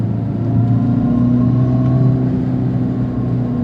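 A 2025 Dodge Charger Scat Pack revs up loudly as it accelerates, its exhaust giving a deep, droning rumble that holds steady, close by, with no speech.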